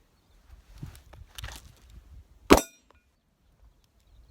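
Sig Sauer 938 pistol fired once at a steel plate, a single sharp bang with a brief ringing tail, preceded by soft scuffs and handling noises.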